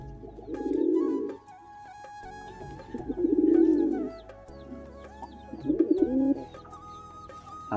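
Pigeons coo in three low, throaty bursts with short pauses between them, close by in a loft where birds are sitting on eggs and feeding.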